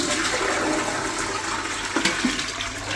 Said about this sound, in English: We're just going to give it a quick test flush.